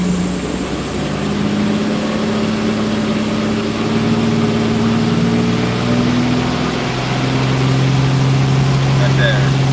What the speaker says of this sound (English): Bump the speed up 5 miles an hour on the dyno.